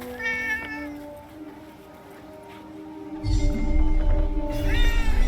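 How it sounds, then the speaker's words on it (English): Two clear, fairly close meows from a cat in the video game Forspoken, one at the start and one at the end, heard over a steady tonal game ambience that swells into a low rumble partway through. "A cat."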